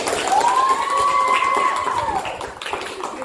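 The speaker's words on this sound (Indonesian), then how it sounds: "Kita beri tepuk tangan dulu Kak Aji" Applause from a classroom group of students, a steady patter of clapping with a sustained tonal sound running through the middle.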